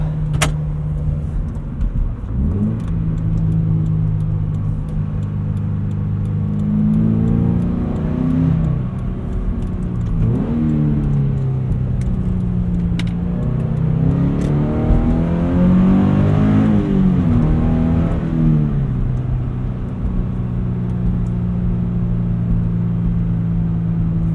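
Steady engine drone and road rumble fill a Subaru BRZ cabin with rear seats up, rising and falling as the car accelerates and shifts gears, muffled but continuous.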